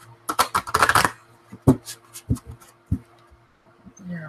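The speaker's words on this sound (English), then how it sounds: "They're really hard to shuffle" A stiff new deck of cards riffles in a quick burst, followed by several separate snaps and flicks of stiff cards, close by and fairly loud, with pauses between them.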